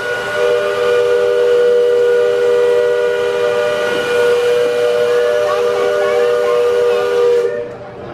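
A riverboat's loud, sustained steam whistle blows steadily with several harmonic tones over a hissing background, then cuts off abruptly near the end.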